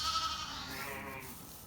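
Ewes and young lambs on a Northumberland farm during lambing season, a single faint bleat drawn out over a second or two with a soft background hum.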